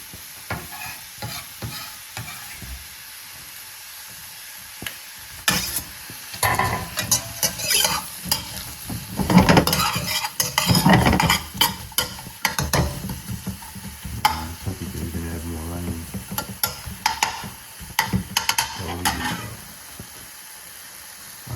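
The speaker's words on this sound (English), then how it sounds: "I'm going to throw these onions in there." Onions for chicken adobo are stirred in a hot pan over lowered heat, giving a steady sizzle broken by repeated scraping, clattering spoon strokes that grow busier through the middle.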